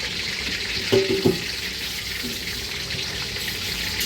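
Beef with plenty of garlic cooks in a pan at a family home gathering, a steady broad sizzle throughout with a couple of brief clanks near the start.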